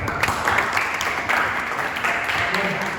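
A classroom audience at a microteaching session claps in a brief, dense burst of applause lasting a few seconds at moderate volume.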